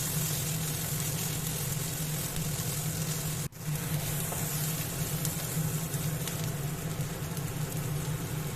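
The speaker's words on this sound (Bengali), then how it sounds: "এবার সবগুলো আমি একসাথে ভেজে নেব।" Bay leaves and raw peanuts frying together in oil in a pan, a dense continuous loud sizzle with a steady low hum beneath it and a brief dip partway through, no talking.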